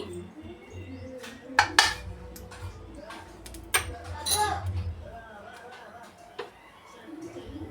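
A cooking pan set down with a couple of sharp metallic clinks, then a spoon tapping as ghee is added, faint and close in a quiet kitchen with a voice talking over it.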